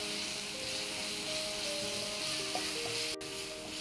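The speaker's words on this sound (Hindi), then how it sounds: "मैंने लहसुन अदरक की पेस्ट को 1 मिनट तक भून लिया है" Garlic ginger paste frying with golden brown onions for mushroom keema, a soft steady sizzle hissing throughout, alone with a faint tonal hum over it.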